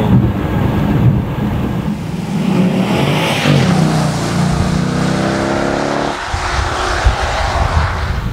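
2015 Dodge Challenger SRT8 V8 engine accelerating on a rainy day, a loud rising roar through the gears with a shift and renewed pull, plus wind noise.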